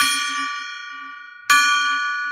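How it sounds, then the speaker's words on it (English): A golden gong is struck twice, each strike a bright metallic ring with a long fading shimmer, the second hit about a second and a half after the first. "let's ring the golden gong and enjoy our success"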